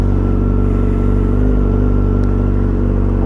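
A motorcycle engine runs close by with a loud, steady, throbbing mid-pitched drone that holds an even level throughout.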